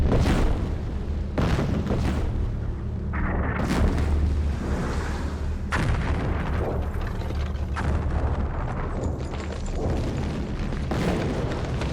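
Heavy guns of an artillery barrage boom repeatedly in a dense, rumbling wall of sound, with irregular thuds layered over a constant low roar, loud and sustained.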